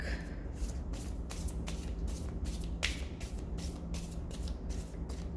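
Soft, rapid papery riffling of cards being shuffled, repeated in short bursts over a steady background hum, close by.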